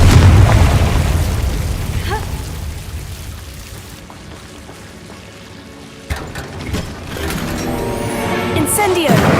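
Explosion from the Confringo fire spell in a video game, a loud booming blast that rumbles and decays over several seconds, followed by crackling debris and a second burst, with a voice briefly present.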